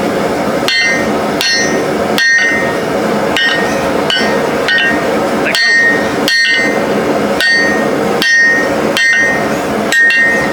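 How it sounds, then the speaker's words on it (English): Hammer forging heated metal, a steady run of ringing, loud strikes about once per second, each with a bright metallic ping, up close with no talking. "I'm flipping the hammer over from one side to the other"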